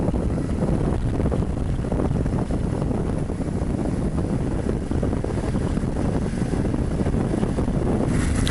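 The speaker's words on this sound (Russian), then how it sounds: "Ох, и ветер тут задувает" Strong, steady wind roars and buffets the microphone on the coast at Cabo da Roca, Portugal, a loud continuous gusting rush with deep low rumble and no voices throughout.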